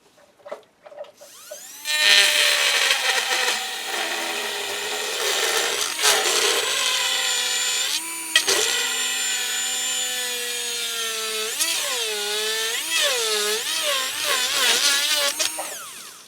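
A dental recess burr in a handpiece cuts into an acrylic denture during a chairside attachment conversion, giving a close, high whining grind whose pitch wavers and dips as the bit bites in, running almost continuously for fourteen seconds.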